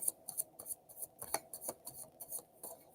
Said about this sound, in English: let me give it another shuffle and focus